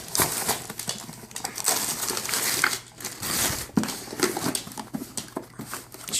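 A dog tears at Christmas present wrapping paper, giving steady crinkling and ripping bursts of rustle across the whole stretch, close and fairly loud with brief pauses.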